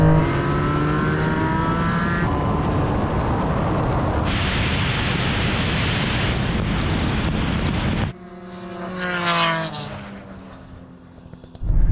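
Loud roaring engines of a Nissan Skyline R34 and a Honda NSX in a drag race rev hard and climb through the gears with abrupt shifts, then a car sweeps past with a rising and falling whine.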